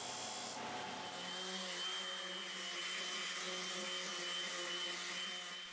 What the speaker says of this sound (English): Finalize them with some sanding.